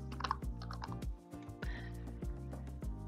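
Someone types a name, job title and email address on a computer keyboard, producing a soft, steady run of key clicks with regular heavier thumps, fairly quiet and close.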